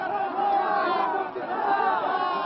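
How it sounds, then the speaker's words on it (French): An angry crowd in Kabul chants death slogans against the Taliban, Pakistan and Osama bin Laden: a dense, continuous roar of many shouting voices, loud and close, with a brief dip midway. "la foule scande « À mort les talibans, à mort le Pakistan, à mort Oussama Ben Laden »"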